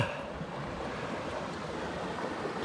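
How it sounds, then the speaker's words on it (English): Creek water flowing and rushing around a person standing in it in a canyon in winter, a steady broadband wash that stays constant and fairly close throughout, with no talking. "I'm standing in a creek."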